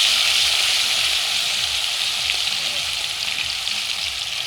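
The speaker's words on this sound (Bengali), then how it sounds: "আমরা চারটে করে ভাজবো।" Food fries in a pan of hot oil at an outdoor picnic, a loud, steady close sizzle with a continuous hiss and faint crackles throughout, nothing else heard.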